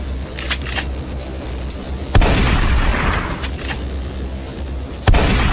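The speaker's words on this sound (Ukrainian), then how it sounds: "постріл." Two sharp, loud video game gunshots ring out a few seconds apart, each a sudden blast with a short rumbling tail over steady background noise.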